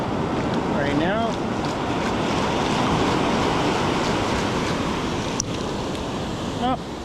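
Ocean waves wash steadily onto a beach under a constant roar of surf and wind rumble across the microphone, loud and continuous, with a couple of faint chirps and a brief click.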